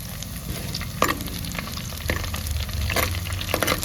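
Chillies fry in a hot pan in a lively, crackling sizzle, broken by sharp clinks and scrapes of stirring, loud and close throughout.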